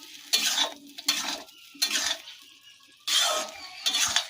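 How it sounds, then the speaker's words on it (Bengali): A lentil mixture is sautéed briefly in a pan, with several separate bursts of scraping and sizzling as it is stirred and pauses of quiet between them, loud and close. "দিয়ে একটু হালকা করে কষিয়ে নেব"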